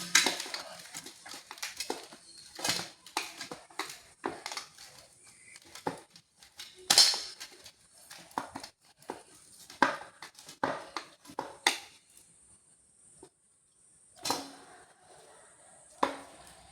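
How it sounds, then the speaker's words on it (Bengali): A knife or scraper cuts rested maida dough into medium portions for Mughlai paratha, giving a series of irregular, close taps and soft chops on a board, with scattered clicks and short pauses between strokes. "লেচিগুলো একটু মিডিয়াম করে কেটে নিচ্ছি।"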